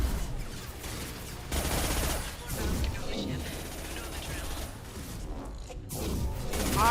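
Rapid bursts of gunfire and whooshing action effects from the video game Mass Effect 2 play in dense, continuous volleys, loud and near, with no talk over them.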